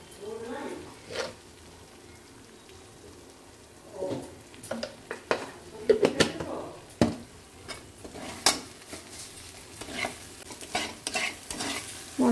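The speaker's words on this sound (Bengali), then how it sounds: "মশলা কিন্তু কষানো হয়ে গেছে" Spice masala for matar paneer being sautéed in a pan, with a spoon scraping and clinking against the metal in irregular strokes over a soft, low sizzle, close by and fairly quiet.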